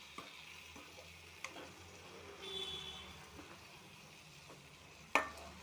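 A soft, steady frying sizzle as eggs are stirred into soya chunk egg curry in a pan, faint and low, with a few light utensil taps and one sharper clink near the end.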